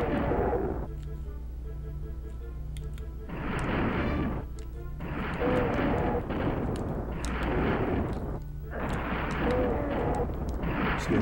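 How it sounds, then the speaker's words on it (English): Repeated bursts of gunfire and blasts from the SNES version of Doom, loud and close, with heavy booming shots coming in several clusters over a droning low game soundtrack. "Someone shooting me?"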